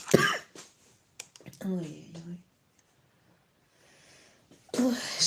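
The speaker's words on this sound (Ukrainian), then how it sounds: "і досі кашляю, друзі, пробачте" A close, harsh cough bursts out, followed by a few soft breathy sounds and quiet pauses, then another rough cough at the end.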